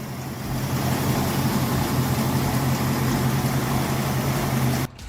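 4.7-litre V8 Jeep WJ Grand Cherokee with an upgraded mechanical fan clutch, running steadily at close range with a loud, even low-pitched hum and rumble that cuts off near the end.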